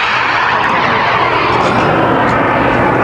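A giant scale T-38 Talon RC jet with twin turbine engines flies at a scale masters competition, giving a loud, steady, broadband turbine roar and whoosh that holds constant throughout.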